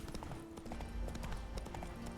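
Horse hooves clip-clop steadily in The Witcher 3 video game, a quick regular trot heard close and fairly loud against a busy game soundscape.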